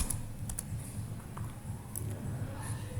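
Soft, quick keystrokes on a computer keyboard entering router commands for Cisco RIP configuration, faint and brief over a steady low hum.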